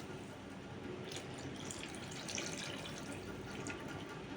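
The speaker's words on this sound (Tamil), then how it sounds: "இந்த மிக்சி ஜாரை நல்லா அலம்பி விட்டுக்கலாம்." Water runs into a mixer grinder jar as it is rinsed in a kitchen, a steady close splashing and trickling with faint drips, continuous throughout and unaccompanied by speech.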